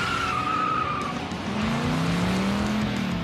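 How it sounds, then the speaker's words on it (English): A 2016 Ford Mustang GT skids, its tires squealing in long, wavering tones over a steady engine roar, loud and close with no talk. "It's a 2016 Mustang GT, and it is a ripper on the road."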